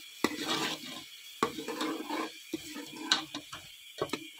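Onion, tomato, garlic and ginger paste frying in ghee for a beef kofta curry, bursts of wet sizzling and spattering broken by repeated clanks and scrapes of stirring, close up with no voices.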